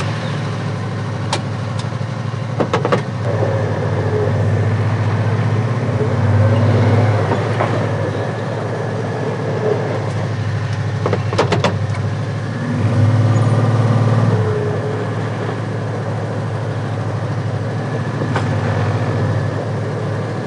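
An 1,800 pound side-by-side UTV rumbles with a steady low engine drone while driving over a flexible CIGS solar panel laid on gravel, with crunching and brief louder swells as the wheels roll over it.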